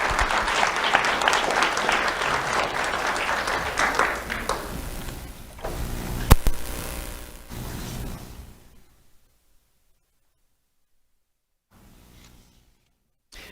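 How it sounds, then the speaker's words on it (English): A crowd claps steadily for several seconds, then the applause fades out into near silence with a brief faint rustle at the end. "Let's have a round of applause for Bianca Omar."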